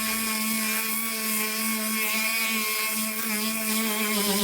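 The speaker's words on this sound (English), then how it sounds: "I'm stripping the paint with 80 grit on my Snap-on DA sander." Snap-on dual-action sander with 80-grit paper stripping original paint from an R33 Skyline body panel, a loud steady high-pitched whine with a strong droning hum that holds continuously throughout, close up with no talk.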